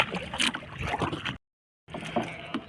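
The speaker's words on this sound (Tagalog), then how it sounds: "Medyo malakas-lakas yung agos. Sasagwan muna tayo." A small fishing boat is paddled against a strong current, with steady splashing and water rushing close by, briefly cut off by a moment of silence before the paddling resumes.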